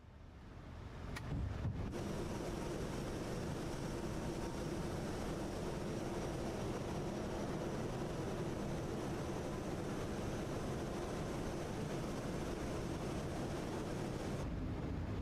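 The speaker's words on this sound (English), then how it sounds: "And we can drop our gear." A Boeing 737 in a flight simulator extends its landing gear: a brief thump and clunk give way to a loud, steady rush of airflow and rumble that continues unbroken for many seconds.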